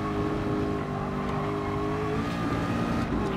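Ford GT LM race car engine in the video game GT Sport, a steady loud drone holding high revs with slight pitch shifts, continuous and alone without talk.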